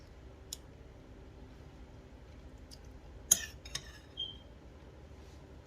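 A spoon clinks against a bowl of pasta fagioli: a few sparse, quiet metallic taps and a brighter clink cluster midway, heard against a faint, calm kitchen background.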